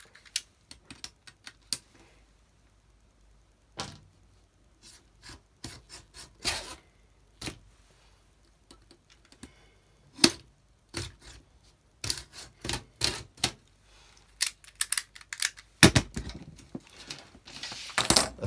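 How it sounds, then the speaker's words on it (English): An NT cutter blade rasps and scrapes through a tin foil baking tray in short irregular bursts, with quiet pauses between strokes that grow busier toward the end, close and without speech. "We'll try the NT cutter and see how it cuts."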